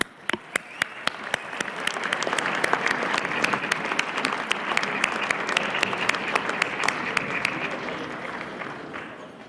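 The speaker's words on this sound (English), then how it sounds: "And a big round of applause, ladies and gentlemen, for all of the FIM" Audience applause fills a gala hall at the FIM 2012 motorcycle world championship awards ceremony, a loud, steady wash of clapping with sharp individual claps standing out, sustained for several seconds.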